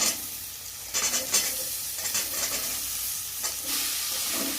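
Vegetables sizzle in a pan while a utensil stirs them, producing several scraping bursts over a constant hiss, close by and with no voices.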